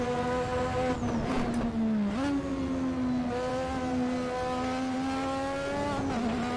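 A 1986 Formula One car at Brands Hatch, racing in Assetto Corsa, holds a loud continuous engine drone under throttle. A brief dip in pitch marks a gear change, and the drone then rises again steadily.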